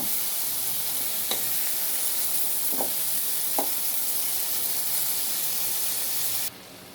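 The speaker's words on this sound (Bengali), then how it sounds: "শুটকি মাছ দিয়ে দিলাম এখন আমি এগুলো খুব ভালোভাবে কষায় নিব" Dried fish (shutki) stir-fries in a hot pan with a steady, dense sizzle throughout, broken by a few faint scrapes of stirring before the sizzle drops abruptly near the end.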